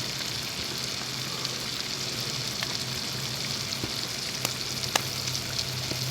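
Lake Michigan king salmon fillets fry in a pan outdoors in a parking lot, giving a continuous, even sizzle with occasional sharp crackles and pops.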